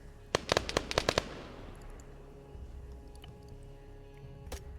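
Suppressive gunfire in the Arma 3 video game during a Fallujah humanitarian operation, a quick burst of about eight loud sharp shots in the first second, then a fading echo with scattered distant pops and one later crack.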